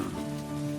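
Cartoon rain falls as a dense, even hiss over a low tonal hum, continuous through the short moment.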